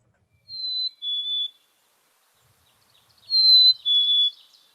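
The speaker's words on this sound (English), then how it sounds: "I just want to look at the black-capped chickadee, which you might be familiar with, and look at some of their songs here" Black-capped chickadee song: two clear whistled two-note phrases, each a higher note dropping to a lower one, the pair repeated after a pause, crisp and isolated against silence.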